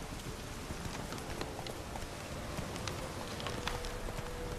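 Horse hooves clip-clop at a steady trot in The Witcher 3, faint and even, mixed with a rain-like patter throughout.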